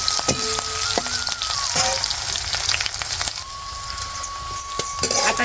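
Green chilies, both capsicum and small chilies, with onion sizzle and crackle in hot oil, a steady close frying hiss with scattered pops and scraping stirs.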